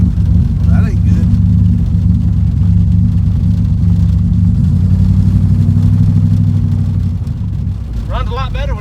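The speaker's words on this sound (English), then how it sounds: "Runs a lot better with this carburetor on it." A third-generation Chevrolet Camaro engine running with a replacement carburetor holds a loud, steady low idle rumble, close by, with voices talking over it.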